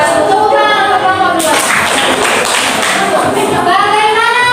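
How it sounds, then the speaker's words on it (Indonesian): Applause from a class of students for a student group, a broadband patter of clapping that swells in partway through and runs over ongoing voices. "Tepuk tangan untuk kelompok"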